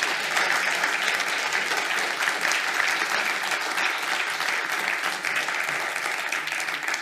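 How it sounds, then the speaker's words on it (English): A conference audience at University College Dublin applauds its afternoon panel speakers, the clapping dense, steady and close throughout about seven seconds of sustained, even applause with no talk over it. "So I'd ask you all to please give a round of applause to our speakers here this afternoon."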